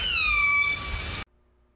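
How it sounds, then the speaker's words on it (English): Orca N1 call from the A4 pod: a single tonal, whistling call that glides slowly downward with bright harmonics, lasting about a second before cutting off abruptly into near silence. "That is a classic orca sound."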